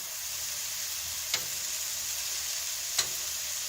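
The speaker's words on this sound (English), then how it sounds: "get some butter all the way over those burgers" Butter-basted burgers sizzle steadily in a pan, a soft continuous frying hiss with two brief sharp clicks or taps partway through, no talking.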